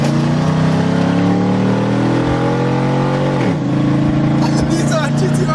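A Hummer H2 with its muffler deleted revs hard up close, its loud, raspy engine tone holding high and then dropping sharply before climbing again, while voices shout over it.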